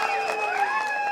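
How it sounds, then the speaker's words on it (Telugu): A crowd claps at a BRS party gathering at Telangana Bhavan, a short burst of dense, even applause mixed with tonal background sound. "రమేష్ గారికి నేను గట్టిగా చప్పట్లు కొట్టి అభినందించాలని"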